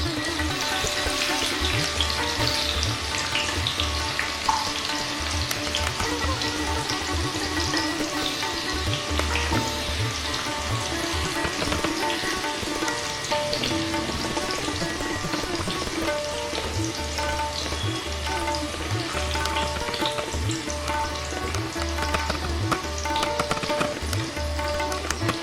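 Young jackfruit chunks frying in oil over a high flame while being stirred, a steady broadband sizzle with repeated low scraping strokes of the spatula, close and continuous.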